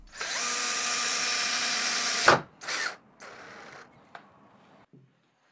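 A power drill drives screws into the shelf of a workbench built from a Simpson Simply Build It kit, one long loud whir of just over two seconds, then shorter bursts and a faint click, close up with no talk.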